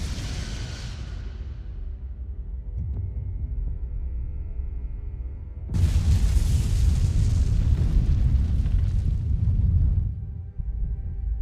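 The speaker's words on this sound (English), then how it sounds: "Firing photon torpedoes." Photon torpedoes strike and explode in the space game Star Trek Resurgence, a sudden loud blast that erupts into a long, roaring, rumbling burst before cutting off, following a quieter stretch of low ship hum.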